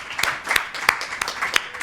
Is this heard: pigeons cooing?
no